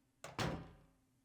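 A door in Silent Hill 2 (2001) opens and shuts. A quick click is followed by a heavy, close thud that fades slowly, with no voices.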